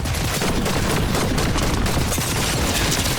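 Rapid automatic gunfire in the video game Fortnite, a loud dense burst of overlapping shots filling the whole span without pause, no talk.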